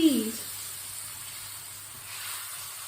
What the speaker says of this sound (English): Now you can definitely hear it sizzling,